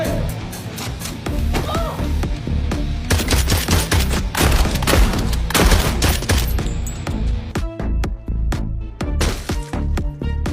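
Movie-scene gunfire: loud, dense bursts of rapid shots and fusillades, near and forceful, with short pauses between volleys and sparser single cracks toward the end.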